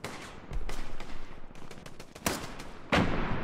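Gunfire in the World War II shooter Hell Let Loose cracks in several sharp shots, with two heavier close blasts near the end over a rumbling battlefield background.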